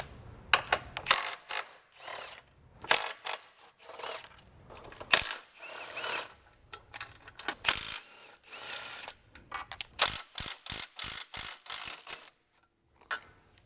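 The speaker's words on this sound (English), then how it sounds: "So for these forward bolts, I'm just going to loosen them and allow the subframe to drop down on its own." A ratchet loosening the subframe bolts on a 2008-2013 BMW E90 M3, with bursts of rapid clicking pawl ticks separated by short pauses, close and crisp.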